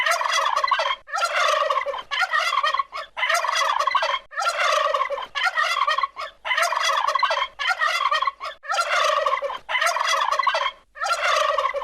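A turkey gobbles over and over in loud, close, rapid bursts, each rattling call separated by short gaps, with no voices.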